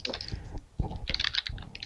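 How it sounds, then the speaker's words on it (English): Typing on a computer keyboard: continuous soft, fairly close key clicks and taps in an irregular rhythm, with no voices. "he is typing as we ask him these questions"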